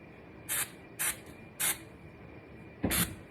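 Four short hissing bursts from a root spray can aimed at a wig, each lasting a fraction of a second with brief pauses between, close and fairly loud, the last burst slightly longer.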